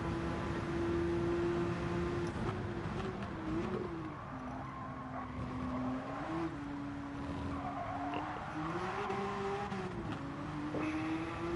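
Gr.1 Group C prototype race cars lapping in Gran Turismo 7 during a 90-minute endurance race, a steady, moderately loud engine whine that rises and falls with gear changes, tyres squealing at times.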